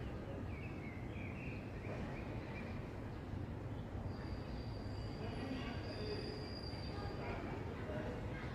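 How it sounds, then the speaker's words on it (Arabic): An Alexandria–Cairo train rumbles past at a distance in Alexandria, Egypt, a steady low roar with faint metallic squeals, continuous throughout. "قطار اسكندرية القاهرة وباقي المحافظات"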